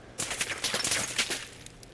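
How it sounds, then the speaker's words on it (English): A rapid burst of video game gunfire in Fallout 4 crackles for about a second and a half, sharp repeated shots close together, then stops. "I can still hear those gunshots"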